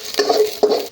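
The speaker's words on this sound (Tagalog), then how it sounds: "Mainit na kasi yung kawali. So guys, igisa natin ang bawang." Garlic sautéing in hot cooking oil in a heated wok, with two short bursts of sizzling and stirring clatter from the pan, close and moderately loud.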